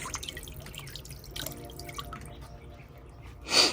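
Water trickling and dripping steadily from a small DIY mosaic garden fountain, close by, with a louder burst of splashing near the end.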